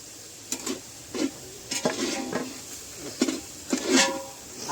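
Masala paste sautéing in a pan for street-style tawa chicken, soft sizzle broken by a series of irregular scraping stir strokes, close and fairly quiet, with no talk.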